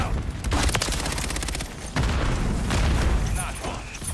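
A stun grenade bursts in a Call of Duty-style shooter with a heavy boom over constant gunfire and battlefield rumble. Voices talk through the loud, dense mix.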